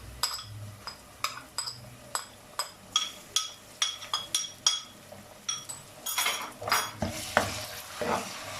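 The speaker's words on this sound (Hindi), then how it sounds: "अब हम इसमें अदरक लहसुन पेस्ट शामिल करेंगे" Ginger garlic paste going into onions for a Hyderabadi chicken biryani, with a spoon scraping and clinking against the pot in a steady rhythm of stirs, then a louder burst of sizzling and frying near the end.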